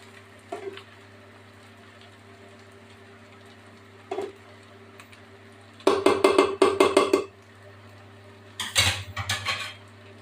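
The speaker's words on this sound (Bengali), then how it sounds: "যেহেতু ইন্ডাকশানে রান্না করছি, তার জন্য নাড়াটা এইভাবে দেবো" Chicken biryani gets stirred in a metal pot on an induction cooktop, with clattering bursts of spoon against pot in two short spells and isolated taps before them, over a steady low hum, with no voices.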